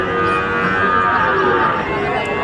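Calves bawl in long, loud, drawn-out moos at a busy cattle market in Jessore, with overlapping cries that run unbroken through the moment.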